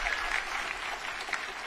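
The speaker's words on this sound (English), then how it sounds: "Give her a round of applause." Applause from an audience at a women's air and space power symposium, a steady, fairly quiet wash of clapping that holds evenly from start to finish with no talk over it.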